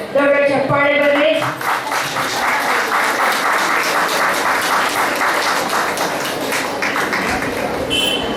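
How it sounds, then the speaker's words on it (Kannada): An audience at a book release event breaks into loud, sustained applause: dense, continuous clapping that follows a brief spoken announcement and holds steady to the end. "ದೊಡ್ಡ ಚಪ್ಪಾಳೆ ಬರಲಿ"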